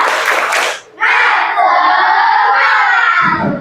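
Schoolchildren repeat the "tepuk semangat" clapping chant in class, a loud wash of patterned clapping and shouting voices after a short lull, ending with a low thump.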